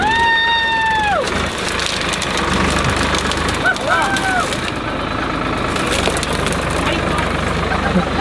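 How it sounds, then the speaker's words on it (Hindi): An Escorts tractor's engine idles and chugs steadily in the background of a muddy off-road scene, with a horn-like tone early on and voices and crowd noise over it. "एस्कॉर्ट ट्रैक्टर आ गया, ट्रैक्टर आंधे धीरे धीरे"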